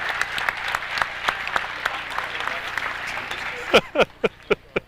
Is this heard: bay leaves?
no